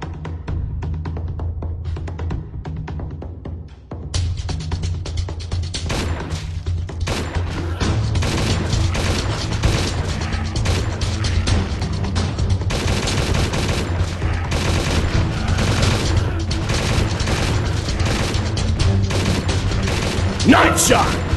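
Gunfire in the mobile zombie shooter Zombie Survival: Game of Dead, dense and continuous shots layered over a steady game soundtrack, growing busier toward the end.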